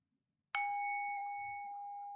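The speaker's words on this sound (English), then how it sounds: "When I ring the bell, you're going to release that positive energy outward in all directions" A single meditation bell is struck once and rings out clear and close, its bright tone lingering and slowly fading over the remaining two seconds in an otherwise quiet room.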